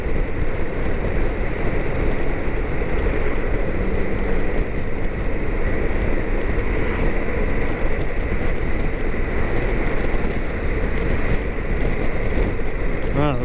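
Strong gusting wind over 30 mph roars continuously around a rider on a 2023 BMW K1600GTL motorcycle, a dense buffeting rush mixed with engine and road noise throughout.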